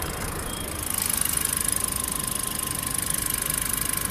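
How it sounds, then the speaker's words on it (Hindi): A Maruti Eeco AC model's four-cylinder engine idles with the air conditioning running, a steady, even hum that steps up slightly and holds close and continuous, with no talk. "इको एसी मॉडल के इंजन का साउंड आप लोग चेकआउट कीजिए।"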